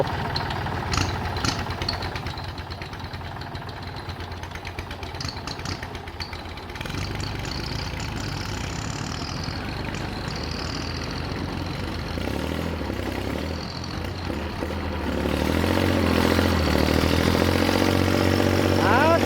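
A tractor engine idles in a rice paddy with a steady low chugging rumble that grows louder toward the end, with voices faintly in the background.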